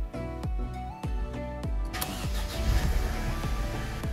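A Mercedes W211 engine starts with a rapid series of cranking clicks and thumps before catching into a steady idle, close and moderately loud with no talk.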